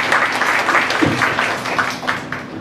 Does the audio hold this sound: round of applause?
yes